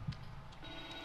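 A weird-looking phone or walkie-talkie buzzing in the horror game The Evil Within 2, giving two short low buzzes about a second apart with a faint electronic tone between them, alone and fairly quiet.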